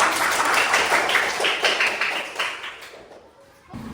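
A fourth-grade class of students claps together in their classroom, a dense rapid patter of many hands that holds steady for a few seconds, then thins and fades to quiet near the end.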